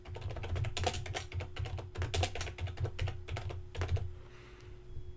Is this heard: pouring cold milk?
no